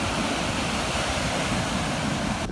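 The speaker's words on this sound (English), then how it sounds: "So when the water washes up, when the waves break," Waves break and wash up on a black sand beach in Bali, a steady broadband roar of surf with wind across the microphone, loud and continuous, with no voices.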